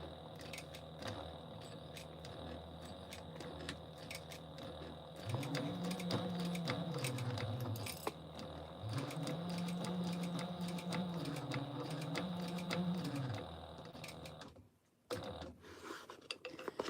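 A sewing machine stitching fabric runs in steady whirring bursts with a buzzing motor tone, starting and pausing twice before falling silent near the end, with faint handling noises around it.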